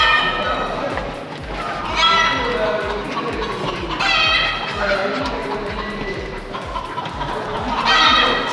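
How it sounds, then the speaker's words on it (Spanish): Many Silkie chicks peep and cheep in bursts, fairly close, over a busy background of clucking and low murmuring. "Acá tienen, estas son pollitas sedosas"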